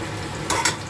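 Tilapia goes into hot oil in a pan, setting off two quick bursts of loud crackling sizzle over a steady, quieter background hiss, close and without talk.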